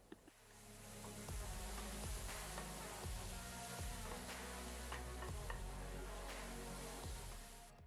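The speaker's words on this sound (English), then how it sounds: "Sugar has to melt, so while frying, mash and keep frying it." Banana mixture with sugar fries in a pan while being mashed and stirred, a steady close sizzle broken by repeated scraping and pressing knocks of the utensil against the pan.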